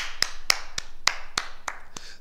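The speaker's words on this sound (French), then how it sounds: "Au travail, on s'applaudit." A small group in a martial arts class clapping together, seven sharp, evenly spaced claps in a slow unison rhythm, fairly close with quiet gaps between.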